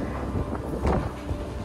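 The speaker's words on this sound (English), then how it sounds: "it's quite windy here" Steady, loud wind noise buffets the microphone on a 30th-floor high-rise rooftop sky club, a constant roar with slight gusts and no one speaking.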